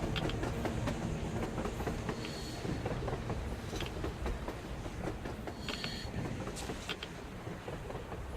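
In the video game Metro Exodus, a train runs across the surface with a sustained heavy rumble, rattling carriages and repeated clickety-clack beats, plus occasional metallic screeches, staying loud and near throughout without speech.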